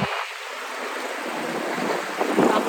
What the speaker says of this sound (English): It's quite cold now and quite windy.